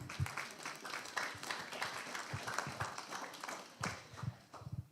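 Audience applause after a school presentation at a student event on housing, a moderate crowd clapping in an uneven patter that rises and settles over several seconds, somewhat quiet and roomy.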